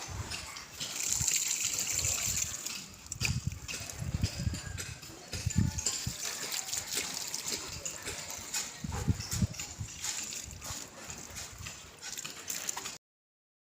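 Water runs steadily from a tap near a house being viewed, a continuous wet splashing hiss with low thuds and bumps throughout, while people talk faintly in the background.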